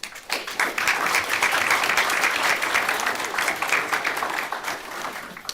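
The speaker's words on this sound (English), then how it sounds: "So if we could start with a round of applause, please, for our board" A school board meeting audience claps for the board, loud continuous applause from many hands that starts abruptly, stays full and begins tapering near the end.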